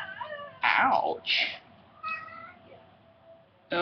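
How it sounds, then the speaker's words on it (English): A house cat meowing close by, several distinct, fairly loud meows with pauses between them, set over the faint backdrop of a fighting video game. "That's my cat."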